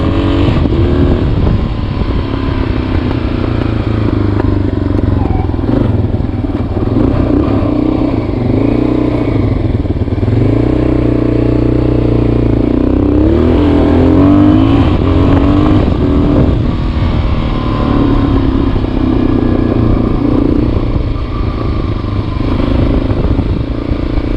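A Yamaha XT350 motorcycle, freshly serviced carburetor, drones loudly and continuously while being ridden, its engine note rising and falling slightly amid wind rumble, heard from on board with no voices.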